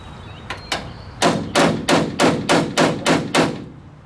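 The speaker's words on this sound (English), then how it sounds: "using a big hammer." Big hammer striking car parts on a Pontiac Bonneville: two lighter taps, then seven heavy, evenly spaced ringing blows in a steady rhythm, loud and close with no talk.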